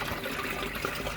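Water pours steadily into an Easy Pod pond filter, a continuous close splashing rush that fills the whole brief moment.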